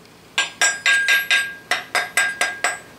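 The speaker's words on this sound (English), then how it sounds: "So I'm gonna brush the sand off of it" A stiff brush scrubs casting sand off a freshly cast, still-hot metal anvil paperweight at a home foundry, giving about ten quick, close, raspy strokes in a steady rhythm with no talk.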